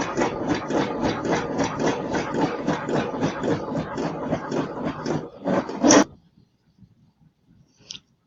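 A printer runs for about six seconds with a fast, rhythmic mechanical chatter, then stops sharply, leaving near silence broken by one small click.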